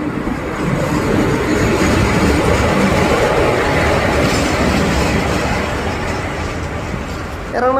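A passenger train rumbles and clatters steadily through Ernakulam Junction station, a loud continuous roar of wheels on rails with a brief squeal at the very end.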